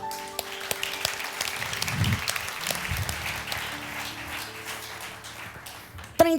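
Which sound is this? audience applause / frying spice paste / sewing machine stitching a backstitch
audience applause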